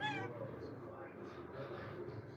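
A house cat gives a short meow at the start, close by, followed by a person talking softly over faint room noise.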